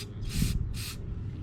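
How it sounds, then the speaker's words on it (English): Cleaner sprayed through a plastic Briggs & Stratton lawn mower carburetor, two short hissing spray bursts close by over a low background hum. "That's spraying through really good now."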